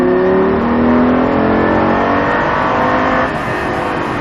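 Lamborghini Gallardo accelerating hard on a race track during a driving course, a loud, close engine roar that climbs steadily in pitch for about three seconds before easing slightly, with no talk over it.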